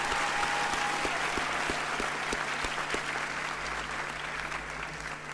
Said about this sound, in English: Let's give him a warm round of an applause